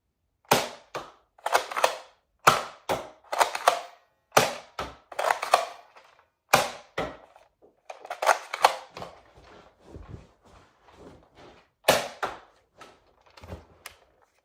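A Nerf Elite Strongarm revolver blaster fires multicolored Elite darts one at a time, each sharp snap joined by the clack of priming, in an uneven series of close, loud bursts with quieter clicks between and no voices.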